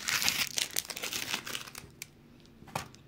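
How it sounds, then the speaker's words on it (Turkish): Adhesive tape is peeled and torn off while a beaded seashell balcony wind chime is being made, giving a close crinkly ripping burst that fades into a few scattered light handling clicks. "Şu bantını çıkaralım."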